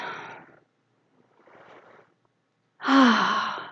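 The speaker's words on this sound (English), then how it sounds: "let's breathe this in" A church congregation breathes together at a spiritual service, heard as a few close, breathy inhalations and exhalations separated by short pauses, the last one strongest.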